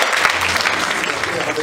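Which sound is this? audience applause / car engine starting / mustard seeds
audience applause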